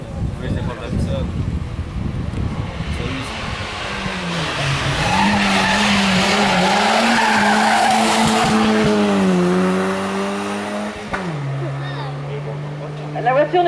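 A 1988 Peugeot 205 GTI 1.9 race car at a historic hill climb revs hard and roars closer, engine pitch rising and falling through gear changes and a tyre squeal, loud and then fading as it passes, with a commentator talking over it.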